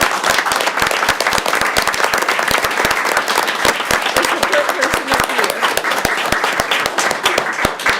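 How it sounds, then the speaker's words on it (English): Dense, steady applause from an audience honoring an award nominee, many hands clapping continuously and loudly throughout with no break. "let's first give her a big round of applause for Christine Stricker."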